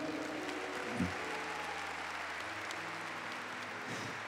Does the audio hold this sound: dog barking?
no